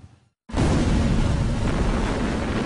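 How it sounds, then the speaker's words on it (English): An explosion-welding charge detonates and rolls across the top of a metal plate: a sudden, very loud, broad roaring blast that starts after a short silence and holds steady until the end. "That starts the explosion, and the explosion rolls across the entire top surface of the plate"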